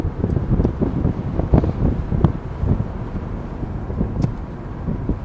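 Steady wind roar buffets the cabin of a car driving with its sunroof open in mid-February, a constant low rumble with occasional gusts and thumps and no voices.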